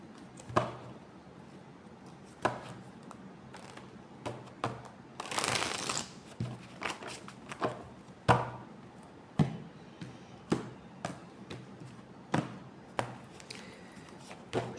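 Tarot cards from a guardian-angels oracle deck being handled and shuffled, a run of crisp close taps and flicks at irregular intervals, with one longer riffling burst near the middle, in a quiet room with no talking.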